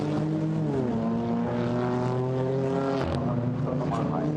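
GT4 race car engine at the Nürburgring during qualifying, a sustained loud tone that rises in pitch through the gears and drops at a shift, under a commentator's continuous talk.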